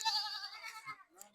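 A goat bleats in a rural village setting, a wavering nasal cry lasting most of a second, fairly close, followed by a shorter fainter call.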